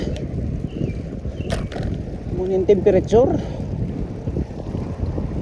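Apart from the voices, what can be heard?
strong cold wind in Stanley Park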